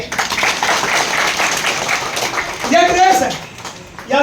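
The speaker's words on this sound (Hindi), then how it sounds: "ओके, ताली बजाओ भैया की।" An audience at a seminar claps for a man on stage, a steady wash of applause heard alongside someone speaking over it.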